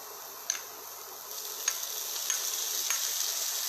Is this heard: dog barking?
no